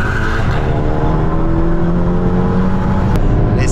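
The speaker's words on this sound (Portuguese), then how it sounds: "Vamos começar o teste já dando pau nesse Camaro." Tuned VW Jetta TSI with a Biagio 300 turbo and remap accelerating hard in a race against a Camaro, a loud sustained engine roar with rising whine tones and rushing wind.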